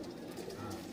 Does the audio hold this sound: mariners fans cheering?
no